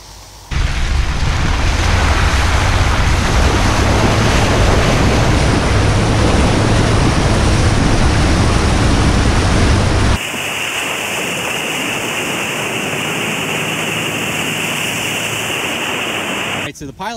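A Honda Pilot SUV ploughs through deep water in an off-road crossing, a loud continuous rush and churning splash that abruptly changes character partway through, steady and close without pause.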